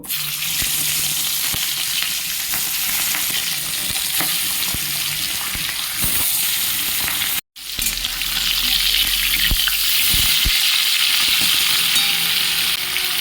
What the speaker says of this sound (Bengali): তেল গরম হয়ে গেছে শিঙি মাছগুলো একটা একটা করে ভেজে নেব